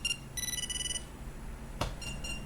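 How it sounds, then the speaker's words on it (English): A kids' toy device running Meshtastic beeps to signal a new message, giving short high electronic tone bursts in a quick pattern, then a brief clunk and two more beeps, heard close over faint room noise. "And now this red one's beeping."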